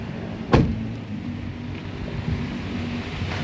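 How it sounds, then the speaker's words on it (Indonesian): The power window of a 2010 Toyota Avanza 1.3 G manual lowers, giving a short mechanical whir with a brief sharp onset, set against a low, steady hum of car ambience and no talking. "Nah, kita buka dulu kaca mobil."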